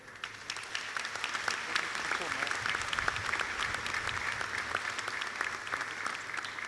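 Steady applause from an audience at a special plenary court session, a dense, even wash of clapping lasting several seconds at moderate distance, with a voice faintly under it.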